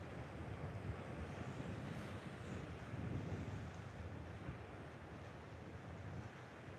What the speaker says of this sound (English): As you can tell, there's a lot of wind here today